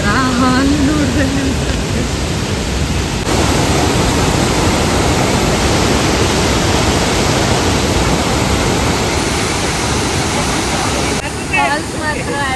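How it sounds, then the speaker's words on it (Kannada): Abbey Falls near Madikeri roars loud and close, a steady dense wash of falling water that never lets up, with a voice speaking briefly at the start and end. "ಫಾಲ್ಸ್ ಹಿಂಗೆ ಹರ್ಕೊಂಡು ಎಲ್ಲೋಕೆ ಗೊತ್ತಿಲ್ಲ"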